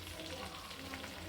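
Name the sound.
fish frying in hot oil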